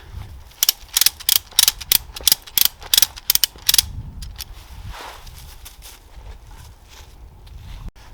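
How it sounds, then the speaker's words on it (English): A ratchet strap is cranked on a Tentsile Safari Trillium XL tree hammock, with about a dozen loud, evenly spaced ratcheting clicks up close, then quieter rustling and handling. "I'm just going to put a couple of cranks in it so that I can get the other ones on"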